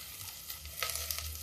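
Onions fry in a pan with potatoes, giving a soft, steady sizzle with faint stirring crackles, heard close up with no one talking.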